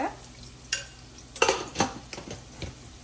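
Onions sautéing in a pan, heard mostly as a few scraping and clinking stirs of a utensil against the pan over a faint background sizzle.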